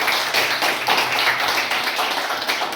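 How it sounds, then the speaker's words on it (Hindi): Audience clapping for a speaker at a dyslexia awareness session, a group applauding together in a steady, moderately loud patter of many hands for a few seconds. "सर के लिए तालियां बजाइए सभी लोग।"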